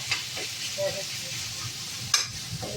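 Tomatoes sauté on a high flame in a pan, giving a soft, steady sizzle broken by a few spatula scrapes and stirs, moderately quiet and with no talking.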